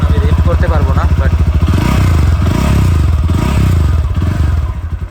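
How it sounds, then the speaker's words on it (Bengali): A GPX Demon 165RR motorcycle's exhaust rumbles at a steady idle, a deep, close, continuous throb that carries through most of the stretch. Someone talks briefly over it at the start. "এই বাইকের আরেকটা মজার বিষয় বা আরেকটা সুন্দর বিষয় হচ্ছে এক্সস্টের সাউন্ডটা"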